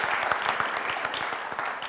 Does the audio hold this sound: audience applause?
yes